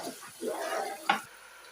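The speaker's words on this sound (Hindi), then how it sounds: "5 से 6 मिनट तक अच्छे से गोश्त को भूनेंगे।" Mutton browning in a pot for pulao, with a brief burst of sizzling as the meat is stirred, followed by a quieter steady frying hiss.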